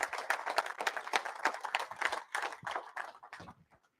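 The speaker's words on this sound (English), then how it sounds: "Give her a round of applause" Scattered clapping from an audience at a speaking event, fairly faint and uneven, with individual claps standing out before it thins and dies away near the end.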